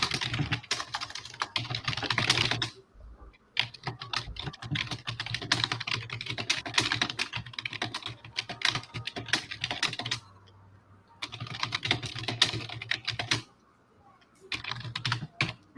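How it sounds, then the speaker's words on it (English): Rapid typing on a computer keyboard, heard alone and fairly close, comes in steady bursts of dense clicking separated by a few short pauses. "you know what your typing sounds like?"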